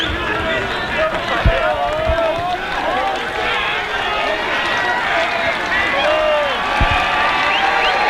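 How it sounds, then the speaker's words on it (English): Steady crowd roar fills a summer collegiate baseball game between the Corvallis Knights and Victoria HarbourCats, a dense, excited wash of voices with a few dull low thumps, continuous and fairly loud throughout. "Crowd's charged up."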